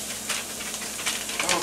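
Mustard chicken mix sizzling in a pan as it is stirred, a brief close hiss with soft scraping bursts.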